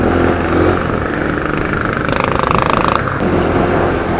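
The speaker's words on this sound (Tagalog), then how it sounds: "Swabe sa arangkada itong motor natin ngayon." A motorcycle being tested for clutch bell dragging accelerates with a loud, steady engine roar that swells into a throbbing rev midway, close to the microphone.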